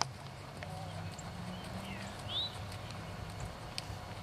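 Horse walking under a rider, a soft steady clip-clop of hooves mixed with outdoor ambience and faint birdsong, while people talk nearby.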